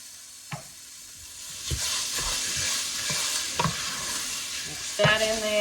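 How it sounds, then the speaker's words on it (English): Onion is stirred into a hot roux for chicken and sausage gumbo, a loud, steady, close sizzle with repeated scraping strokes of a spoon across the pot. "We're going to add our onion."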